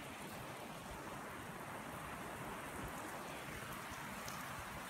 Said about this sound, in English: Fighting the rain today, again.